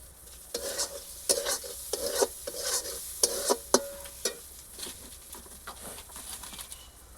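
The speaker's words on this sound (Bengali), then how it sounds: "সব দিয়ে কষিয়ে নিলাম।" Spices with turmeric and shrimp being stir-fried in a pan for a pumpkin-greens dish: repeated scraping stirs over a steady sizzle, with sharp bursts of spatula strokes at irregular intervals, close and moderately loud.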